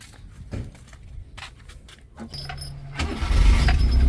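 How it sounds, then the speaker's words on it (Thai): A Daihatsu EF660 car engine cranks and catches, rising into a steady rumble, after some soft clicks and key jingles. "สตาร์ทรถให้ฟัง"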